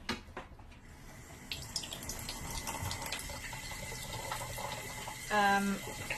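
A tap runs cold water to soak ice towels, a soft, steady close stream of flowing water with light splashes and a brief louder burst near the end.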